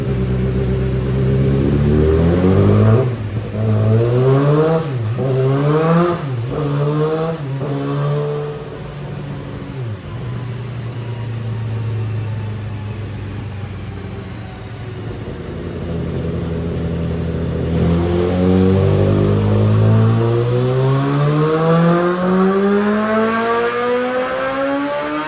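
A stock Honda CBR1000RR-R Fireblade SP sportbike on a dyno revs hard and loud through several rising pulls, its engine note climbing and dropping in sweeping waves, then settles into a steady drone before another long climbing run.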